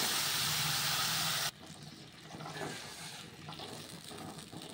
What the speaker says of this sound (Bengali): তো এবার আমি জল ঢেলে দেবো।